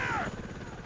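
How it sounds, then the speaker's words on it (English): A helicopter in the video game Shadow Complex gives a brief, faint rotor whir and engine buzz lasting under a second. "Helicopter."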